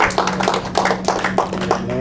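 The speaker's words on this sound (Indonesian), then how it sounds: "Tepuk tangan bagi Tuhan Yesus Kristus." Congregation at a church service claps hands in praise, rhythmic group clapping under a speaking voice, with a steady hum in the room.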